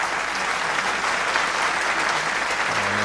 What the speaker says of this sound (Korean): 여러분 다시 한번 큰 박수를 보내주시면 좋겠습니다.